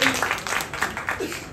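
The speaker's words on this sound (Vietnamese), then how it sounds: "Vỗ tay đi, vỗ tay đi." Applause from a Vietnamese live show audience, a steady patter of clapping that carries through the whole short stretch at moderate level, with some voices mixed in underneath.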